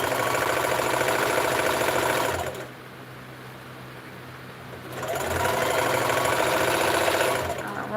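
A home sewing machine stitches across a thick, bulky seam in two loud, steady runs of rapid mechanical whirring, separated by a short quieter pause.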